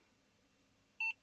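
An old computer gives a single short electronic beep as it powers up, a clear, bright tone lasting a fraction of a second after near silence.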